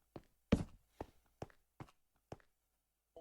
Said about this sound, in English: you could hear footsteps on the stone behind him